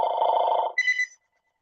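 A telephone rings once in a room, a short warbling electronic ring followed by a brief higher-pitched tone, loud and close, then silence.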